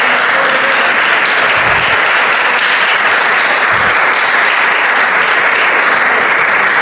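A church congregation applauds loudly and continuously after a sermon on the gospel, a thick sustained roar of clapping with a couple of deep thuds partway through.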